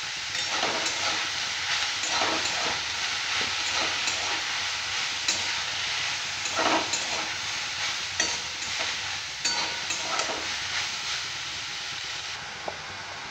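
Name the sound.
mushrooms being stirred and fried in a pan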